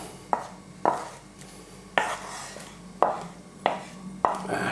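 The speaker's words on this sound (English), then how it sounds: "I want to use a metal large spoon, because I want to fold it in now" A large metal spoon folds strawberry mousse in a bowl, knocking against the bowl in six sharp, evenly spaced taps, close and with no talk.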